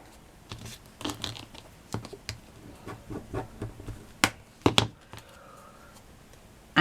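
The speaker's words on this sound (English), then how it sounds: "Let me get my bone folder. Fold it in half again." Cardstock is folded in half and creased with a bone folder while making a paper flower, giving a run of close, dry crinkles, taps and sharp scraping creases with a few louder snaps near the end and no talk.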